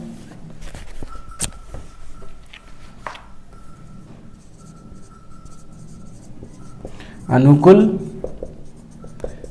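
A pen writes on paper while an exam probability question is worked out: faint scratching strokes run under someone speaking Hindi, with a louder burst of voice near the end.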